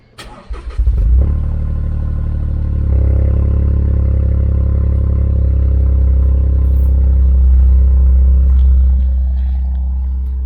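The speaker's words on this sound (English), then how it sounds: "so let's give this car a good cold start." A Toyota GR Corolla's three-cylinder engine cranks briefly on a cold start, then catches and settles into a loud, steady, deep idle through the stock exhaust that holds for several seconds up close.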